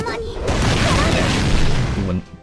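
Paul Bunyan's Noble Phantasm attack in the Fate/Grand Order video game unleashes a loud, dense run of booming, crashing impacts for about two seconds before cutting off into a brief fading tail.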